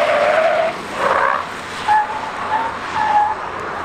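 An electric Mini Cooper SE slides around a race circuit, its tires squealing and skidding in several drawn-out, loud bursts over steady road and wind noise.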